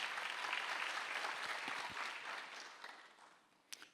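A church congregation at a Sunday worship service breaks into sustained clapping that thins and fades toward the end, ending with a few scattered claps.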